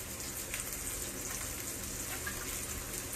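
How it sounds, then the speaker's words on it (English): Honey goes into melted butter in a frying pan, giving a steady close sizzle and crackle with no pauses throughout. "I'm about to put some honey in the pan with the butter."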